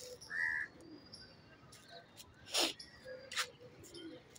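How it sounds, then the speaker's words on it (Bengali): Pigeons coo softly around a nest in a garden tree, with short faint calls and a few sharp chirps scattered over a quiet, low background. "ওই যে পায়রাগুলো আসছে না, পায়রাগুলো এসে এসে জানো তো ওই বাসার ওখানে দেখছে, ওখানে আসছে পায়রা"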